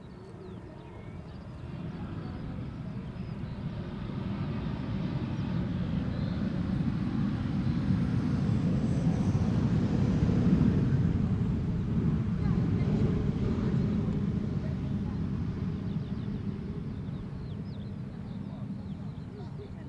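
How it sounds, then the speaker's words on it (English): EasyJet Airbus A320neo jet arriving from Palma de Mallorca at Amsterdam Schiphol Airport, a steady low roar that swells toward the middle and slowly fades, with wind buffeting the microphone throughout. "EasyJet arriving from Palma de Mallorca, A320neo"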